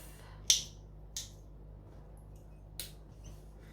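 Scissors trim fabric off a sewn zipper pocket: a few sharp, isolated snips spaced apart against a quiet background.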